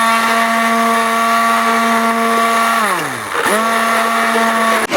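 A kitchen blender blitzes simmered butter chicken curry sauce with a loud, steady motor whine that briefly dips and slows before spinning back up, running without any talk.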